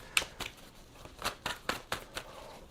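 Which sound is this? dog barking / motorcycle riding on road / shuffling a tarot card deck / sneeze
shuffling a tarot card deck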